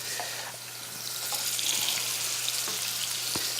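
Veal chops fry in clarified butter in a pan, a steady close-up sizzle with soft crackles and spits and a low hum beneath, no speech.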